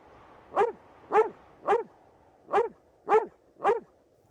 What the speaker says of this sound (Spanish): Rufo no cesaba de ladrar